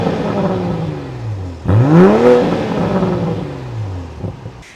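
A BMW M440i convertible with a B58 engine revs sharply once, a loud rising roar that peaks and falls back, then a softer second swell, all close and with no talk.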